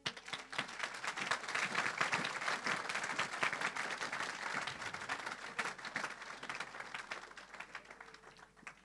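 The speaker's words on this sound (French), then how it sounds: "Viens, on acclame le Seigneur." A congregation at a church service breaks into sustained applause and cheering, dense clapping from many hands that holds steady for several seconds, with no speech.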